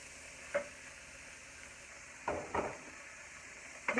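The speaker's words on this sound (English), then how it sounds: "I'm going to go ahead and saute these" Frozen cut-up peppers and onions sauteing in a pan, a soft steady sizzle with a few brief clacks of stirring, quiet and close, with no voices.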